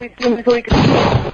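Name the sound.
gunshots fired into the air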